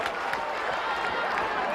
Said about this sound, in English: The audience applauding this exciting ladies wrestling action